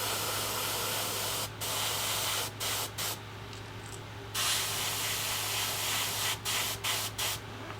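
An airbrush sprays paint onto a fishing lure through a stencil over the gill plate, a steady close hiss broken by short pauses as the trigger is released, with a low hum underneath.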